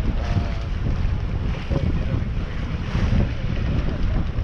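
Steady wind and water chop at Beaufort force 4 aboard a sailboat underway, with about 8 to 10 miles of fetch; continuous broadband rushing and sloshing with gusty wind buffeting on the microphone, loud and unbroken throughout.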